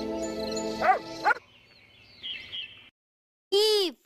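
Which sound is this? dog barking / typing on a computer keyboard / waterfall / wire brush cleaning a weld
dog barking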